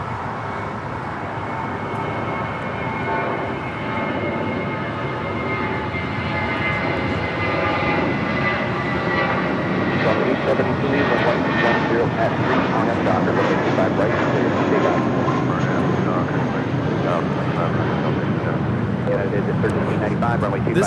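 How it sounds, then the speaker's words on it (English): A Delta Boeing 767 jet arriving at LAX from JFK, a loud sustained engine roar that swells steadily and holds through the whole stretch, with a voice talking over it. "Say Delta 767 coming in from JFK"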